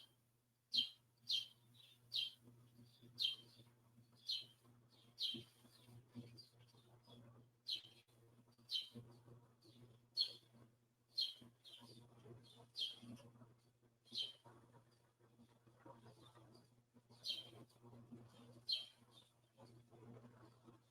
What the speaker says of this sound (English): You probably hear the birds chirping in my background because I got my window open right now.